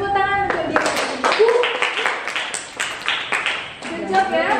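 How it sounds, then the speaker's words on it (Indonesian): A classroom of students claps together in a quick, rhythmic burst of sharp hand slaps that lasts several seconds, with voices heard briefly at the start and end. "Ibu ingin kita mengapresiasi diri kita sendiri dengan memberi tepuk tangan untuk diri kita."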